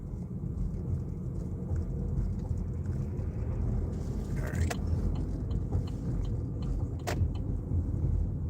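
A race car in a racing video game drives with a steady, continuous engine drone and road noise, holding a fairly even level throughout, with a few brief sharp clicks and no talking.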